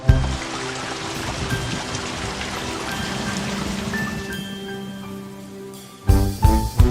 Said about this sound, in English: Rain, rain, go away. Come again another day.